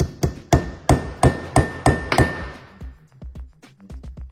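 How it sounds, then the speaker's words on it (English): Metal hammer tapping a seal into place, about seven sharp ringing strikes at a steady half-second rhythm, followed by lighter, quicker taps, close and loud with no talk. "Probably a metal hammer works a little better."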